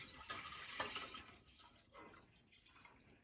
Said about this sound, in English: we're going to pour the goat milk in here